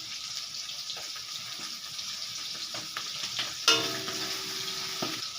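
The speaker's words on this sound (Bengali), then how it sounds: "এবারে দিয়ে দেব আদা রসুন আর শুকনো লঙ্কা পেস্ট দিয়ে আমি কষিয়ে নেব।" Ginger, garlic and dry chilli paste with salt frying in a pan for a murrel fish curry, giving a low, steady sizzle with faint occasional scrapes and one sharper clink partway through, heard alone without speech.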